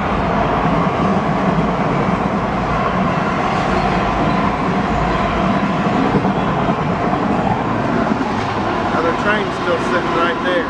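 A heavy freight train rolls past close by, a continuous loud rumble and rattle of cars on the rails with no break.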